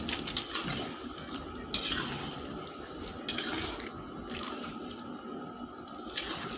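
A spoon stirs Kashmiri-chili-spiced meat for shahi biryani in a metal pot, giving repeated clinks and scrapes against the pot over a steady, moist background hiss, close and moderately loud.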